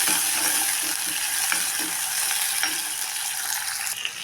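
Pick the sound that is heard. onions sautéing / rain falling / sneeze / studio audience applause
onions sautéing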